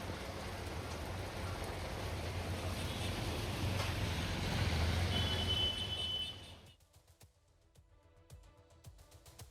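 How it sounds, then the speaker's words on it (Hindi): Light drizzle in Periyakulam, Theni district, Tamil Nadu, makes a soft, even hiss of rain for several seconds before it drops away abruptly to near quiet with a few faint ticks. "यहाँ पर हल्की बूंदाबांदी हुई है"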